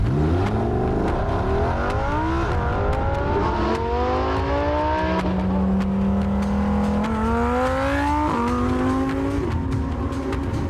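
Lamborghini Huracan STO V10 engine revving and accelerating through several upshifts, each pull rising in a loud, continuous wail with tire noise underneath and no talking.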